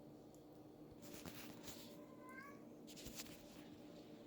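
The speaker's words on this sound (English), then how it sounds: "So excuse me if one of the kitty cats is crying in the background." A cat meows faintly in the background of a quiet room, one or two thin, drawn-out cries over low household noise, with no speech.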